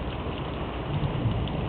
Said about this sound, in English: Beautiful rain sent from above.